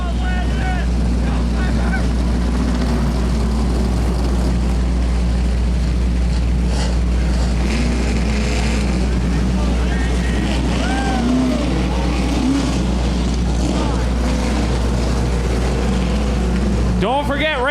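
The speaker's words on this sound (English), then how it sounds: "Gentlemen, fire these hot rods!" Race car engines roaring at Angola Motor Speedway, a loud, continuous rumble of many hot rods running together at the start of the Stan Perry Memorial 110, with a faint announcer voice underneath.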